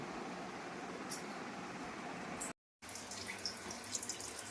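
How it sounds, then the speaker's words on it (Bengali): Hilsa fish pieces are washed under a running tap, a constant close hiss of flowing water with a short break and light splashes and drips afterward. "এবারে মাছগুলো ধুয়ে নেব,"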